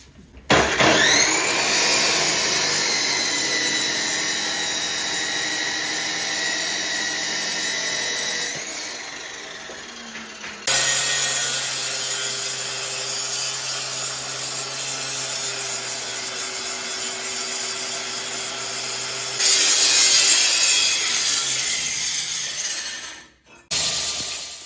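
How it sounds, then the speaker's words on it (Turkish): Power saw or cutting disc separating knife steel from a leftover piece of 90-layer Damascus steel, a loud sustained high-pitched grinding whine in long continuous passes with brief drops between cuts, no talk. "Artık bıçakta kullanacağımız çeliği kalan parçadan ayırıp yeniden işe koyulma vakti."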